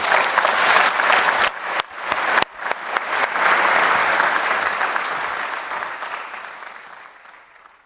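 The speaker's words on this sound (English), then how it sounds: "Ladies and gentlemen, please give our panel a big round of applause." An audience at an economic forum applauds a panel in a big, sustained round of clapping, loud and close at first, then gradually tapering off.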